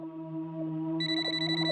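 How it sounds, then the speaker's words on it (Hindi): A phone ringtone plays, a steady electronic tone that brightens partway through, with no voices. "भाई का फोन है।"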